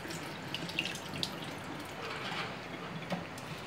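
Tap water runs steadily into a sink while basmati rice is washed, a continuous close splashing hiss with a few small drips and clinks.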